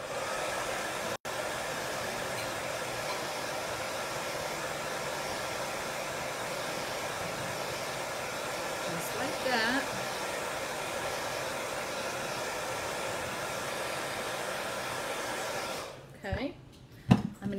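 A hair dryer blows steadily at close range to dry a painted chalkboard sign, a constant whooshing hiss that cuts off near the end, followed by a few small handling noises.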